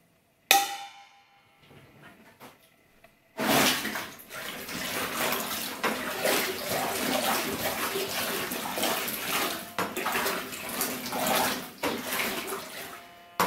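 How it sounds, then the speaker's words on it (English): A new batch of apples tumbles into a container for making apple wine, starting with one sharp knock and a short faint rattle, then swelling into a long, loud, continuous rumbling pour. "I have a new batch of good apples, and I'm gonna pour them in here."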